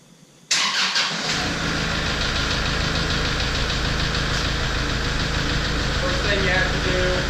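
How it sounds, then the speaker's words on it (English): A Kubota L4060 tractor's diesel engine kicks in and settles into a steady, chugging idle that stays loud and close throughout. "the noise of the tractor running"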